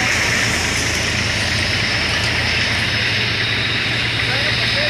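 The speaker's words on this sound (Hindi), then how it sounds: "वो हमारा अपना बच्चा ट्रैक्टर खड़ा है दोस्तों" An Eicher 380 tractor engine idles steadily throughout, a continuous loud rumble mixed with broad background noise and no pauses.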